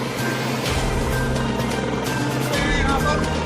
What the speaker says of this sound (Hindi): अभी मुख्यमंत्री जी का ये हेलीकॉप्टर यहाँ से सीधी से रवाना हुआ है।